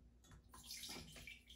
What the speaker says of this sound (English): And I'm just gonna pour the vinegar